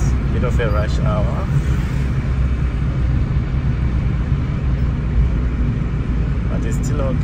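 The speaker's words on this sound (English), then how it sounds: "Lots of traffic now." Steady road traffic rumble heard from inside a moving taxi in Morocco during rush hour, a continuous low engine and road drone with a few faint passing sounds.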